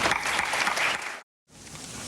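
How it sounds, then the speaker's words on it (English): Audience applause at the APLA Commitment to Life IV fundraiser in Los Angeles, a dense, steady burst of clapping from a crowd on its feet that cuts out abruptly, then resumes at a slightly lower level. "Please get to your feet and applaud him."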